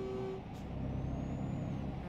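DAF truck in Euro Truck Simulator 2: a brief hiss of air brake release over a low, steady engine rumble, with a short tone at the start.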